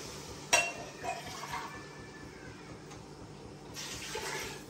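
Water is poured into a cooking pot of browned chicken, where rice will be added and boiled. A steady rushing pour runs throughout, opening with a sharp metallic clink of the pot. No one speaks.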